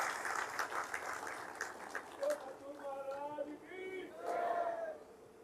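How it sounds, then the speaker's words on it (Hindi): An audience claps their hands in welcome at a spiritual talk, a broad wash of applause with crowd voices and cheering mixed through it, steady and fairly close. "हाँ, ताली भी बजा लीजिए, एक दूसरे का स्वागत कर लें।"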